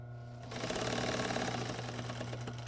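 A sewing machine stitches slipcover fabric for a wing chair, starting after a brief pause and then running in a fast, steady mechanical patter close by, with no talking.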